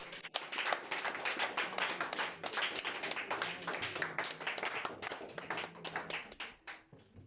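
A church congregation claps together to acclaim the Lord, a steady stream of many hands striking in quick, even rhythm, fairly close and continuous throughout with no voices standing out.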